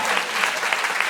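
A brief burst of dense audience applause for journalist Carole Cadwalladr at a live comedy podcast recording, steady and full for about a second.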